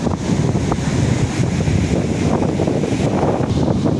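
Wind buffets the microphone at the seashore while ocean waves rumble and wash nearby, a loud, continuous roar with no voices.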